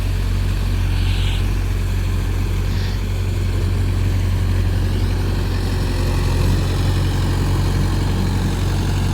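A Mahindra 585 special edition tractor working in deep mud, its engine droning low and steady at moderate revs, loud and continuous with no talk.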